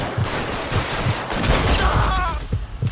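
Gunfire in the video game L.A. Noire crackles in a rapid burst of repeated shots, with low thumping reports spaced through the short stretch, loud and close.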